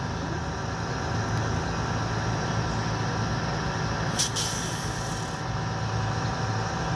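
An American bus with a rear-mounted engine idles at Prospect Heights railway station, giving a steady low rumble throughout with one brief sharp hiss or click partway through.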